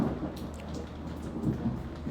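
Steady rain falls with a deep rolling rumble of thunder during a thunderstorm, loud and continuous, with dense raindrop patter and no voices.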